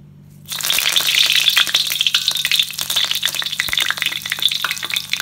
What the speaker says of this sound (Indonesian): Minyak dah panas ya. Sekarang taruh daun kari.